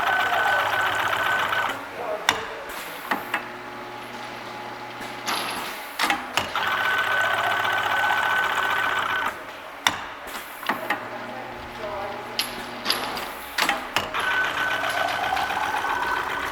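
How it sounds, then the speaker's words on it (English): A peristaltic filling machine runs to prime air from its tubing, giving a mechanical whir in long stretches broken by sharp clacks and knocks as the heads cycle, with a voice talking over parts of it. "We will be able to prime all of the air out of the tubing by running the machine."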